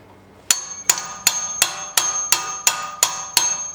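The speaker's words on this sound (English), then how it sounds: "Stick it in, give it a couple of hard taps just to torque it down." Nine sharp metallic hammer taps ring out at an even pace on a brake part of a Honda Civic during front brake pad replacement, each strike loud and close with a short bright ringing decay and no talk.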